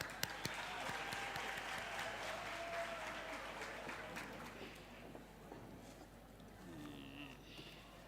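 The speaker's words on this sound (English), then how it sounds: "A round of applause, please." Audience applause at a university campus safety programme event, quiet and somewhat distant steady clapping that fades halfway through, leaving faint room noise and a brief voice.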